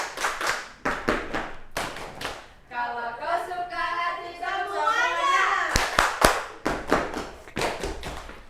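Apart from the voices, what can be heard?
clapping along to children's song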